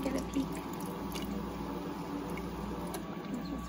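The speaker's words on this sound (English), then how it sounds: "There's just water dripping into the tray." Water drips steadily into the ice tray of a LERIZOM portable ice maker over a constant low machine hum, faint and close, with no speech.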